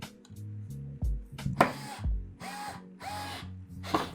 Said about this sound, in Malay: Untuk pasang kipas ke radiator, kita akan guna skru yang panjang ni